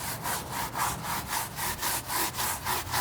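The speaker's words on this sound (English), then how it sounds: "And then I'm gonna scrub them with a regular tire brush here." A regular tire brush scrubs degreaser-coated car tires in rhythmic back-and-forth strokes, about eight even bristly passes at close range with no talking.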